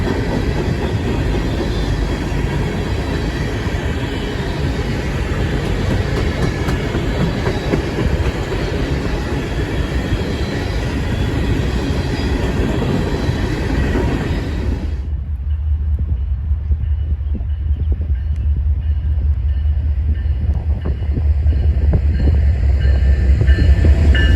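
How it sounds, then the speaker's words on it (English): Norfolk Southern coal train hauled by BNSF locomotives passes close by, a long continuous roar of wagons and wheels, shifting midway to a heavier low rumble that swells louder toward the end. "the NS Coal Train 881, which comes from Trenton, Monroe, Michigan, to Cicero, Illinois, BNSF's yard, and will always have BNSF power"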